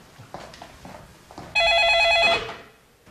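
A telephone rings in an office scene from a North Korean drama, a loud steady electronic trill lasting about a second before fading, after some faint background shuffling.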